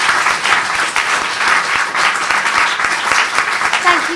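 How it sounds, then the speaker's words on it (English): Crowd applause at a live podcast event, broad, continuous clapping that holds for several seconds, with a voice briefly audible near the end. "can we get a massive round of applause for the wonderful Richard Vobes?"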